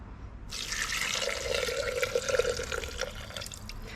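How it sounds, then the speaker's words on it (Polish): Liquid pours steadily into a Thermomix for a few seconds, a continuous splashing stream that begins abruptly and stays close. "I teraz ten płyn wlewam do termomiksa z powrotem."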